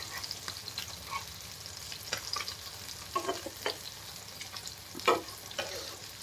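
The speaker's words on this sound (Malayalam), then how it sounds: "മീനെല്ലാം മൊരിഞ്ഞട്ടാ." Mackerel fries in a pan with a soft, close sizzle broken by scattered crackles and a few sharper pops, heard on its own without speech.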